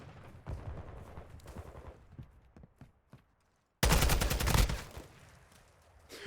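Call of Duty gunfire in a collegiate esports match: a loud, dense burst of rapid automatic shots erupts after a stretch of quieter, scattered game noise and a brief near-silent gap, then fades back down.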